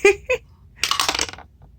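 A die is rolled and tumbles with a brief rattle and clatter across a surface, heard close up after two short clicks.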